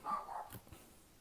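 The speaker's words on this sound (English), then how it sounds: "that's my dog barking at somebody walking their dog." A dog barks at someone passing outside with another dog, a short bark or two heard once at moderate distance in an otherwise quiet room.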